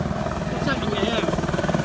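A helicopter flies overhead near a moored boat, its rotor chopping in a fast, steady pulsing thud that sounds close and loud throughout, with a voice speaking over it.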